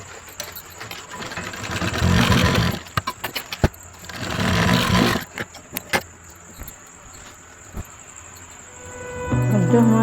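A sewing machine stitches a blouse seam in two steady whirring bursts of a few seconds each, separated by pauses with clicks and handling noises.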